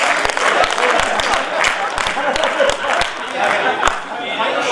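An audience at a Hindi poetry gathering (kavi sammelan) breaks into sustained clapping, a dense near crowd applause running throughout with a voice talking over it.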